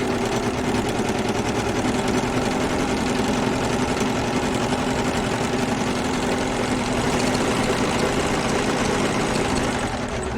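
A serger running a 3-thread serge on knit fabric, a dense, even mechanical hum and rapid rhythmic clatter that stays loud and close and steady throughout, with no talking.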